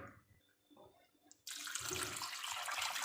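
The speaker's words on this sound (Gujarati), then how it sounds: "હવે એમાં એડ કરીશું ઠંડુ પાણી" Quiet clinks and shuffling, then a sudden steady rush of cold water pouring continuously into churned cream, loud and close for the remaining seconds.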